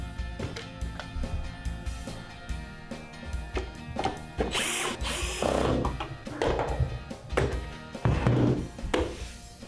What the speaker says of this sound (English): On to the next step of putting our screws in.